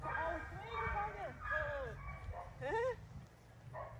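A puppy in an off-leash dog field gives a string of high, rising yips and thin whimpers close by, in several short bursts over a few seconds.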